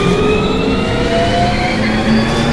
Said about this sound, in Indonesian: Namun karena mendengar suara sirine mendekat, Fortis terpaksa pergi